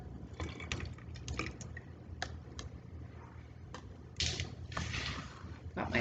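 Quiet water bubbles and pops close by after being poured into a lava lamp demonstration, with irregular small ticks and gurgles that briefly grow louder toward the end.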